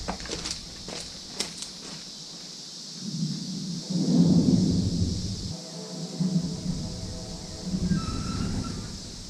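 Low thunder rolls from an approaching storm over a garden yard, a distant rumble swelling in the middle and returning faintly near the end, with no speech.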